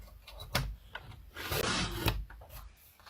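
Cardstock trimmed for a handmade Halloween spinner card, a scraping, rasping slide of a paper trimmer with a few sharp clicks and one longer cutting stroke, close and moderately loud.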